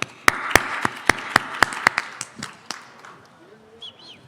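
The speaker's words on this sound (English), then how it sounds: "Give them a round of applause" Scattered, evenly spaced claps from a small audience greeting a conference panel, about eight sharp slaps that thin out and fade to quiet room tone.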